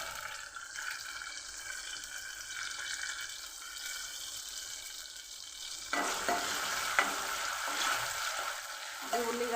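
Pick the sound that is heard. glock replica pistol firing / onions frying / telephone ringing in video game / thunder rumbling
onions frying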